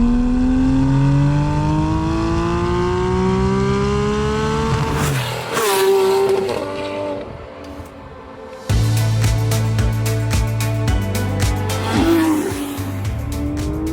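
A Porsche 911 GT3 or Mercedes-AMG GT R sports car fitted with a JCR aftermarket exhaust revs up through rising gears, briefly quiets, then barks loudly again with crackling pops, close and prominent.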